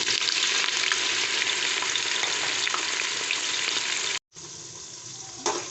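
Four medium onions fry in a pot for degi aloo gosht with a loud, continuous sizzle, broken by a brief silent gap near the end before the frying resumes.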